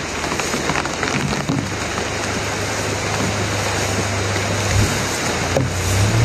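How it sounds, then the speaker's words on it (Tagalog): Heavy rain pours down in a steady, loud, hissing roar that continues without a break, with a low rumble beneath it. "sobrang lakas po ng ulan"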